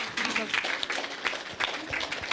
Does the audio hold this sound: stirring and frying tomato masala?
no